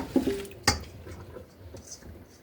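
Blanched Brussels sprouts are tipped from a strainer into a sink full of cold water: a quick splash and clatter, then soft, scattered drips and watery squishes that fade.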